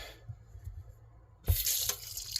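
Water from an RV trailer's fresh water tank, drawn through a siphon, starts to run after quiet gurgles, then gushes into a steady splashing flow.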